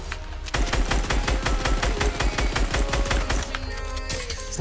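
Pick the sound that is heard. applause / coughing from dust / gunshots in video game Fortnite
gunshots in video game Fortnite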